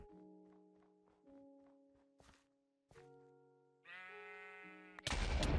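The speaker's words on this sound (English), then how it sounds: "Hey sheep!" Sheep bleat in the Minecraft video game: a wavering, buzzy bleat stands out among game tones, soft footsteps and thunks, ending in a sudden loud noisy burst, with no voices over it.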